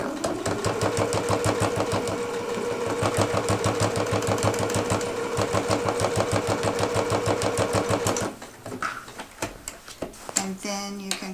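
A sewing machine stitches a row down on a strap, running in a fast, steady rhythmic ticking for about eight seconds before stopping, followed by a few quieter clicks and handling sounds.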